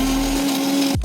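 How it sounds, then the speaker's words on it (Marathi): A kitchen mixer grinder blending peanut, coconut and garlic chutney with a little water: a loud, steady high-pitched motor whine with a churning rattle, running continuously and then abruptly winding down at the very end. "त्यात थोडं थोडं पाणी टाकून मिक्सरमधून बारीक करून घेते आहे"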